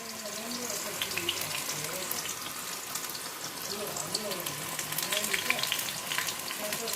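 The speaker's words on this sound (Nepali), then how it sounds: "अब यहाँ मेरो करेला मिडियम फ्लेममा फ्राई हुँदैछ।" Bitter gourd slices fry in hot oil over a medium flame, giving a steady, dense sizzle and crackle that runs continuously throughout at moderate loudness, with no talking.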